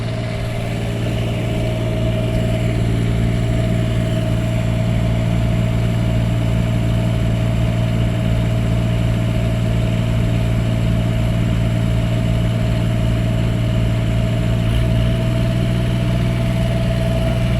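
A recreational vehicle's generator drones steadily throughout, a loud, constant engine hum with a strong low-pitched tone and no pauses or changes in pace.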